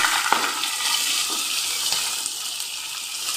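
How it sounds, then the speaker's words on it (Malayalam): Chopped vegetables, ginger and garlic land in a hot pan and sizzle, with a steady hiss of frying and a few sharp clinks of utensils, close by and with no voices. "എടുത്ത ഇഞ്ചി വെളുത്തുള്ളി ഇനി നമ്മൾ അരിഞ്ഞെടുത്ത എല്ലാ വെജിറ്റബിൾസും കൂടെ നമുക്കത് ചേർത്ത് കൊടുക്കാം"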